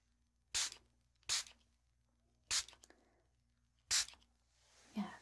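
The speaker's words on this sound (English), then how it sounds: "I'm just going to cover your eyes while I spray this now." A spray bottle gives five short, crisp spritzes in a quiet room, close and evenly spaced with brief silences between, the last one softer and more diffuse.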